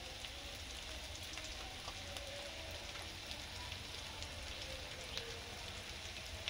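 Shrimp frying with chili powder, green chili and cumin in a pan, giving a dense, continuous sizzle at an even level with occasional tiny pops and no talk.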